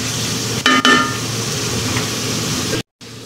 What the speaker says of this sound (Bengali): মশলাটা ভালোভাবে নেড়ে দিলাম